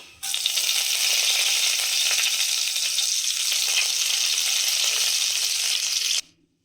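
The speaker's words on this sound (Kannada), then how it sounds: "ಕರಿಬೇವಿನ ಸೊಪ್ಪನ್ನ ಹಾಕೊಂಡು ಫ್ಲೇಮನ್ನ ಆಫ್ ಮಾಡ್ಕೊಳ್ತಾ ಇದ್ದೀನಿ." Curry leaves crackle in hot oil as a tempering for palak dal, along with a Byadagi chilli. A loud, steady, close sizzle starts abruptly and runs evenly for about six seconds, then cuts off, with no talk.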